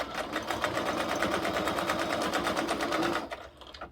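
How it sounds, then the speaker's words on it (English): Sewing machine stitching close along the edges of a fabric billfold wallet: a continuous, fast mechanical whir with rapid needle rhythm, running loud and steady before slowing and stopping near the end. "Let's base stitch the sides so that it keeps the pockets closed when we're ready to connect them."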